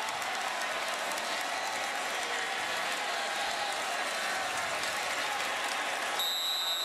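A college football stadium crowd roars steadily after a Boston College freshman's 54-yard touchdown run against USC, a broad, sustained wash of cheering heard from a distance.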